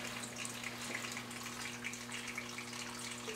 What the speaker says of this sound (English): that vacuum is actually going to pull all the water out of the bed, the water level is going to drop and return back down to the tank.